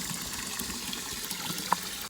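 Water running steadily to fill drinking water for cows, a continuous faint splashing flow with one brief knock near the end.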